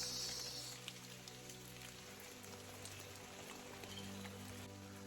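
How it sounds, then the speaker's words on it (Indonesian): Steady heavy rain pours down continuously on a mountain trail on Mount Kerinci, a dense hiss of drops drumming on surfaces close by, with no voices. "Hujan deras."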